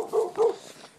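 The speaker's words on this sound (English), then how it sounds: "Shut up, dog!" A dog gives two quick barks close by, the second louder, followed by a fading whimpering tail.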